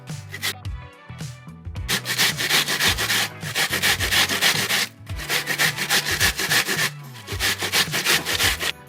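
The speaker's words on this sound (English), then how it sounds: "So I'm gonna grate the onion too." Potatoes and an onion are grated by hand on a metal grater in a home kitchen while preparing beef patties. Close, loud rasping strokes repeat in steady bursts, with a few brief pauses between runs and no talking.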